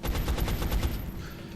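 Rapid gunfire from a squad soldier's weapon in the turn-based strategy game XCOM: Enemy Unknown, a tight burst of about six loud, evenly spaced shots that ends abruptly and leaves a fading tail.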